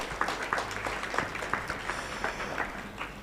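An audience at an ICT Week event on digital inclusion claps, with individual hand claps picked out at a moderate distance over about three seconds and no talking.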